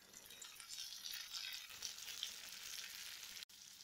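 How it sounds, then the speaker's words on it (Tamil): Steady, quiet sizzling of chopped tomato sautéing in a hot pan for a Tamil vatha kulambu, a continuous hiss with a soft clack near the end; no talking. "தக்காளியை நல்லா மசிகிற அளவுக்கு வதக்கி விட்டுக்கலாம்"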